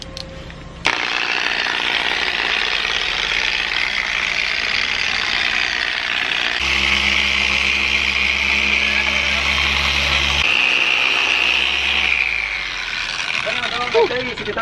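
A power tool whines steadily close by while a car headlight is machine-sanded and compounded, its pitch and load shifting partway through as a lower engine-like hum joins and then fades near the end.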